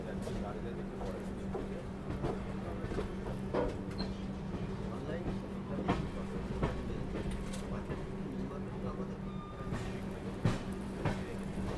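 Duronto Express train running past Kharagpur junction station, a steady rumbling rail roar with rhythmic clacks of wheels over joints, heard from inside the train, continuous and fairly loud throughout.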